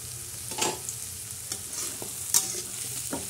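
Onion and tomato being stirred and sautéed in a pan for a simple village-style potato chutney, with a steady soft sizzle and occasional scraping strokes of the spoon, close and alone.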